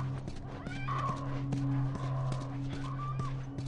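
A horse in the video game The Last of Us snorts and whinnies close up, with a few soft hoof clops and shuffles, all moderately quiet and without talk.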